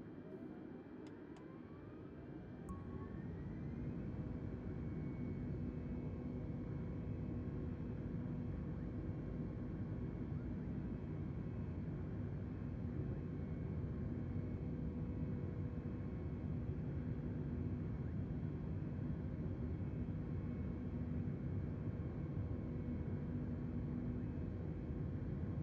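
Airliner engines spooling up to full takeoff thrust in a flight simulator game, a steady loud broadband roar that builds after the first few seconds and holds constant throughout, with no talk.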